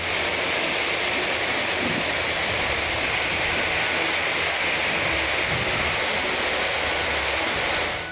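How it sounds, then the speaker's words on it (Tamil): Courtallam waterfall, with increased water flow, roars as a dense, steady broadband rush, loud and unbroken throughout with no voices. "வறண்டு கிடந்த குற்றாலம் அருவிகளில் தண்ணீர் வரத்து அதிகரிக்க தொடங்கியுள்ளது"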